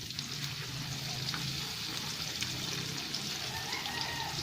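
Pork chop frying in shallow cooking oil, a steady broadband sizzle with small crackles and pops that holds constant throughout, close and fairly loud with no talking.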